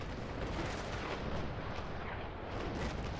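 Broadside of warship cannons firing in the naval combat game Naval Action, aboard the Santisima, a continuous rolling rumble of heavy booms with no talk.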